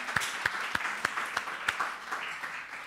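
A church congregation claps together in a dense, continuous burst of applause with sharp individual claps standing out, loud and close, with no talking over it.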